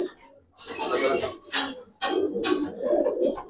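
Pair of Giribaz (Girizel) pigeons from a home flock cooing in bursts with brief pauses, close by, amid other bird sounds and some background voices.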